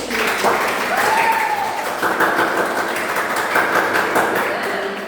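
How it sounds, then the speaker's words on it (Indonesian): Eighth-grade students clapping in a school classroom at SMP Negeri 2 Tonjong, a continuous rattling patter of hands lasting several seconds, with a voice briefly heard over it. "tepuk tangan untuk Mas Rafli."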